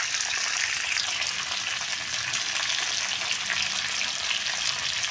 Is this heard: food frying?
yes